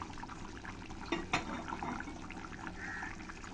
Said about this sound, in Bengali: এই মাছগুলোই আমি এর মধ্যে দিয়ে দেব।